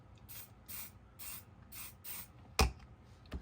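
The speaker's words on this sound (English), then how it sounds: "Spray it a little bit with some hairspray." Five short hissing bursts of hairspray from an aerosol can mist a handmade pilgrim craft figure's beard, spaced evenly and close by, followed by a couple of sharp knocks as the can or figure is handled.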